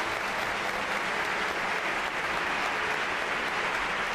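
A live show audience applauds an invited guest, a dense, steady wash of clapping from many hands that holds at full level throughout.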